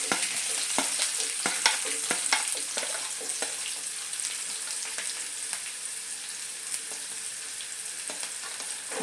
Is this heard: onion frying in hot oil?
yes